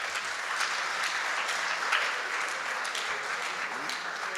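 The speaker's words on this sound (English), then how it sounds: "Let's give them a round of applause" Steady audience applause for the panelists at a book launch, a dense, even wash of many hands clapping that holds at a constant level throughout, with a faint voice briefly under it.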